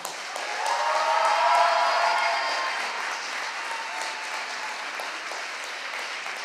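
Sustained applause for the candidates fills the hall at the final of a French student speaking competition, many hands clapping together, swelling briefly then holding steady, with a faint tonal hum or voice underneath.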